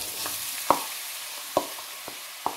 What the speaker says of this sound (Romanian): În cratiță am pus 4-5 linguri de ulei, apoi vom pune ceapa